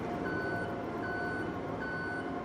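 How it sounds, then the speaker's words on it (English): A farm vehicle in a farming video game sounds a steady, repeating reversing beep over a constant engine drone, with no talking. "I wish there was an option to nuke that reversing beep, because that's annoying me."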